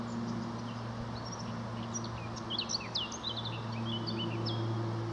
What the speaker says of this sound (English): Blackcap singing in there somewhere.